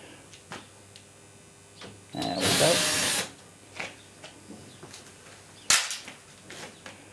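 A power screwdriver runs for about a second, whirring loudly while taking screws out of the back panel of a Beko DRCS76W tumble dryer, amid sharp clicks and clatter of parts nearby.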